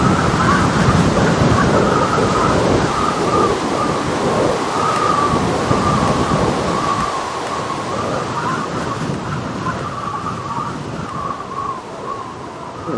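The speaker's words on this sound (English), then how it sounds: "Rain was kind of loud on my end." Heavy rain pours with a dense, loud, continuous hiss and rumble close to the microphone, easing slightly toward the end.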